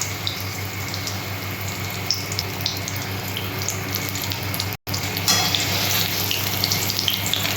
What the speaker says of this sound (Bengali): ঝিঙেগুলো ছাড়ছি, ঝিঙের পকোড়াগুলো